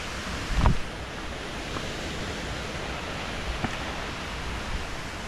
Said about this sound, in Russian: Правда, небольшой водопад.